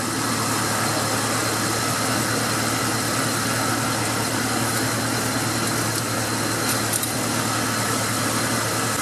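The warmed-up engine of a 1999 Cherokee with a four-speed automatic transmission idles steadily with a constant low rumble and hum, unbroken for the whole stretch, with no voices.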